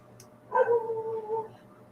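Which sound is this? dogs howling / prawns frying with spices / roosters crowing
dogs howling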